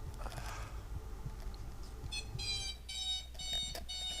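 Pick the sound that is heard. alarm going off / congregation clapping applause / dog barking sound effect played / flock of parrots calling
alarm going off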